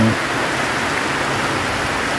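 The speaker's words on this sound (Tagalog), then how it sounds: "Lakas-lakas ng ulan dito sa amin sa Negros Oriental." Heavy rain pours down in a dense, steady hiss with no letup, loud and close, in Negros Oriental, Philippines.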